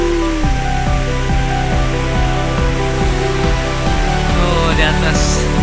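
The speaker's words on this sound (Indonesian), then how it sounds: "kita sudah sampai di air terjun Bunar" Air terjun Bunar, a waterfall in Pagerageun, roars as a steady, loud wash of water noise throughout, with a rhythmic pulsing hum running underneath it.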